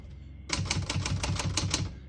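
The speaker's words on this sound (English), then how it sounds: "we're going to keep it on 1 and finish typing" Rapid keystrokes on a 1962 Olivetti Model 21 portable typewriter, about ten crisp close clacks in quick even rhythm following a brief quiet start, with no talking.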